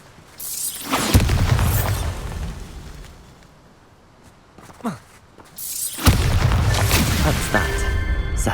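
Hogwarts Legacy spell blasts from Bombarda and Confringo, two loud booming explosions with rumbling tails separated by a quieter lull, with brief game effects between.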